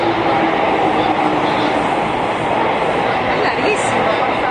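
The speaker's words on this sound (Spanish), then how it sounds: "Ahí viene el tren." A train runs through a Tokyo station with a loud, steady rolling rumble and hiss that holds without a break from start to finish, close and continuous.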